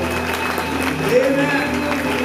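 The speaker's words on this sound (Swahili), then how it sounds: "Makofi ni kwa ajili ya Yesu ya juu na makubwa." Church congregation clapping together during a Swahili service, a steady, dense patter of many hands that continues without a break beneath a voice and a faint sustained musical tone.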